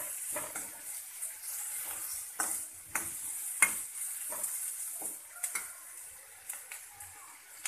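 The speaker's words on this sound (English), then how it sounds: "We need to slightly fry this." Chopped onion with green chilies frying in a pan, soft sizzling broken by a run of sharp stirring clicks and scrapes at irregular intervals, close and moderately quiet with no voice.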